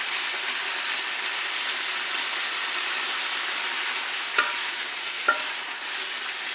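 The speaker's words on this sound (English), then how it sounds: "So again, we're just getting a little sear on this" Ingredients sear in a pot for Louisiana gumbo with a steady, close, even sizzle. Two brief utensil clinks cut through near the end, and no one speaks.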